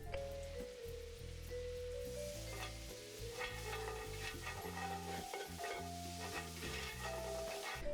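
Butter foams and bubbles in a hot cast iron skillet just pulled off the heat for a brown butter shallot sage pan sauce, a steady close sizzle running the whole time over low, sustained tonal background sounds.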